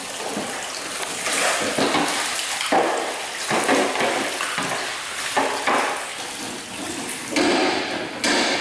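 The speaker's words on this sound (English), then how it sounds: "So we've been filling up from this first vat, and Richard's over here now." Liquid flowing from a cheese-making vat, a continuous loud rushing and splashing with surging waves, alone without talk.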